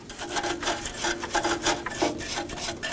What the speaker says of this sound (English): we're going to clean the mating surface. I'm going to use some brake clean and a wire brush.